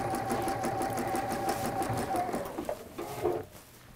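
A domestic sewing machine runs a zigzag stitch on fabric, giving a fast rhythmic whirring hum at moderate level that stutters and slows in the last second.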